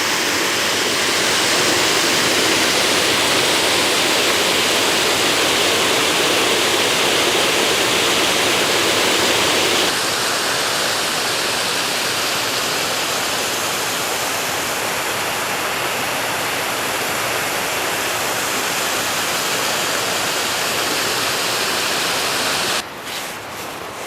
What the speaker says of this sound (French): je reviens sur la cascade